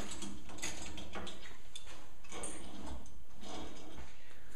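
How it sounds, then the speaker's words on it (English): Socket wrench ratchet loosening bolts on a Jeep during a bumper, winch and fender build, a quiet run of repeated clicking ratchet strokes in several bursts with faint workshop hum. "I'm going to get my socket wrench and get these loosened"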